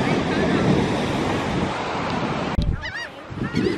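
Ocean waves washing onto a beach, a steady broad roar of surf, followed by a sudden thump and brief honking or voice-like calls over quieter surf.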